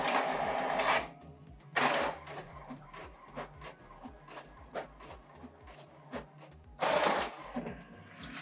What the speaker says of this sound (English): go to the printer and select copy again for you to copy it on the other page